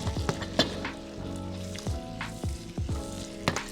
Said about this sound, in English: Let's give this a good mix, get everything well combined.